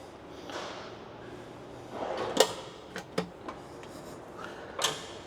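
Quiet camper interior on a single-cab ute with a few sharp knocks and clicks, like a vanity drawer sliding and shutting, spaced irregularly over several seconds.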